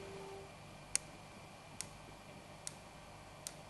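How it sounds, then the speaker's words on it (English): A tripod ball head's independent 360-degree pan ratchets out four sharp, faint clicks at even intervals, one every 10 degrees of rotation, against a quiet background hiss. "This ball head features also a 360 degrees independent pan, and what is very satisfying is that every 10 degrees I can hear a clicking sound."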